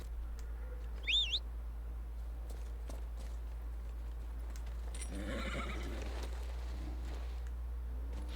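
A horse in Dragon Age Inquisition gives a short, shrill whinny near the start, followed later by a burst of soft hoof clatter over a steady low game hum.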